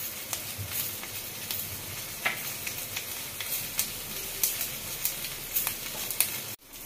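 Panch phoron with fennel seeds hits hot oil for a Bengali doi begun dish, a steady close sizzle with scattered crisp pops and ticks, and a clunk near the end.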